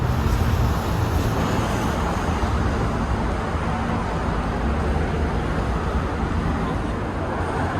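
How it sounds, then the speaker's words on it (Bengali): Steady roar of road traffic as a bus arrives at a stop in Dubai and idles nearby, under a constant hum of people queuing and talking. "ওই নেক্সট বাস এসে গেছে"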